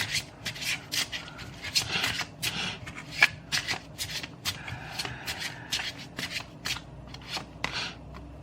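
Tarot-style cards shuffled by hand for a card reading, with a steady run of close, crisp riffling and sliding bursts and no talk.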